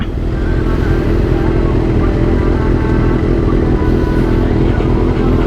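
Kawasaki Z900 motorcycle engine idling and revving at a motor shop after servicing, a loud, close, continuous engine drone with a steady low rumble.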